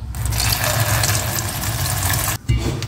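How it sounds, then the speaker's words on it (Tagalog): Water pours steadily into a cooking pot with a rushing splash, briefly stopping near the end before resuming. "Lagyan ko lang siya ng tubig."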